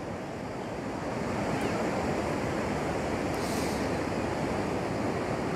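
Surf rolls in at the Tramandaí seaside beach in a continuous, loud wash of breaking waves, with wind buffeting the microphone throughout.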